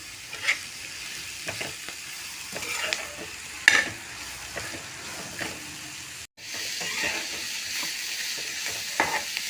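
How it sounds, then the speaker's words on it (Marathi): Onion, curry leaves and coriander stems sautéing in a pan for Malvani chicken, with repeated scraping stirs over a steady sizzle and a brief drop-out midway. "तर मी हे व्यवस्थित कांदा आणि हे परतून घेते"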